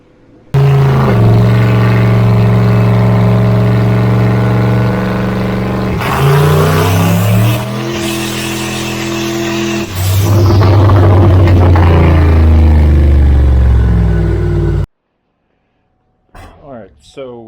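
A turbocharged 1000+ hp Corvette with a BoostX BX 2.2 cam and VSR 8089 G45-1600 turbo runs loud and close, idling roughly, then revving in surges before cutting off abruptly.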